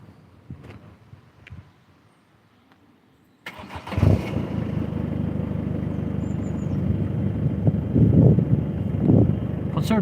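A diesel Ford Fiesta ZS with an aftermarket exhaust system cranks over and starts, settling into a steady, fairly loud idle with a few brief revs, after some quieter handling noise at the start.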